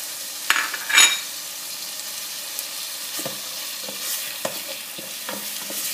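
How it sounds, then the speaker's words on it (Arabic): Fresh tomato frying with other ingredients for tchich bel qarnit, a soft steady sizzle broken by a couple of sharp utensil knocks early on and scattered light stirring scrapes, close by. "خليها تتقلى معاهم تسيب ماها"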